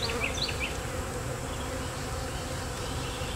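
Honey bees swarming around an open hive, a steady close, loud buzzing drone with individual bees whining past near the start.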